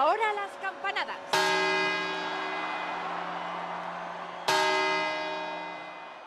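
Two loud, resonant clock bell strokes marking New Year's Eve midnight, each ringing out and slowly decaying, preceded by a short burst of crowd noise.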